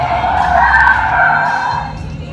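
A car does a burnout at a Guam car culture event, its tires skidding in a loud, sustained squeal right beside the listener that holds steady before easing off toward the end.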